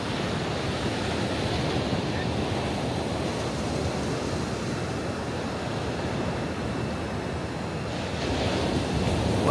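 Steady roar of surf washing onto a beach shore, continuous and fairly loud, with wind buffeting the microphone throughout.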